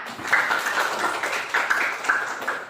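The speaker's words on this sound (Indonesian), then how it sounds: "Beri aplaus untuk kita semua" A class of eleventh-grade science students claps together in a classroom, a dense, steady patter of many hands with slight swells, close and loud, without talk.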